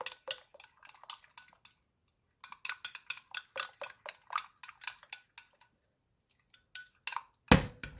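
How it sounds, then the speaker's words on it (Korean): Acacia honey and idebenone cream are mixed in a small container, giving a quiet series of light clicking, scraping taps in uneven bursts with short pauses, ending in one louder knock. "잘 섞일 수 있게 섞어주세요."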